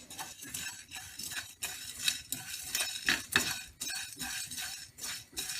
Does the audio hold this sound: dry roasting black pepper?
yes